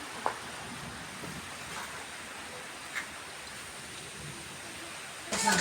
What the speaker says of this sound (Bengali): দেখুন বন্ধুরা বৃষ্টি শুরু হয়ে গেছে দেখুন।